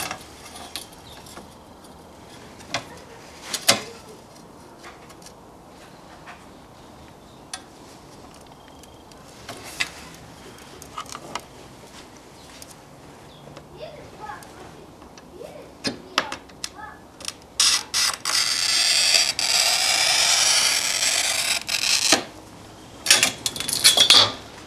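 Glass panes being cut for a home-built aquarium, with intermittent sharp clicks and taps of the cutter and glass, then a sustained harsh scoring hiss near the end.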